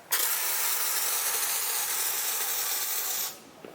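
Citrus cleaner sprays steadily from a nozzle onto the skin of a Piper M500 turboprop, a close continuous hiss lasting about three seconds before cutting off sharply, with only a faint click afterward.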